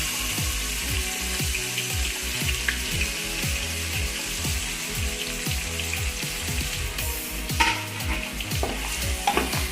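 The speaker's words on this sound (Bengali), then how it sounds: "পেঁয়াজটা আমরা তেলে লাল লাল করে ভেজে নেবো।" Onions fry in oil for Bengali-style mutton kasha, a constant crackling sizzle with repeated scraping stirs of a spatula against the pan, close and steady, no one speaking.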